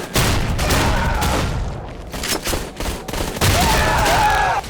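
A semi-automatic shotgun in a first-person shooter fires in a rapid series of loud, close booming blasts, several shots in quick succession with brief gaps and a mechanical rack between bursts, no voices.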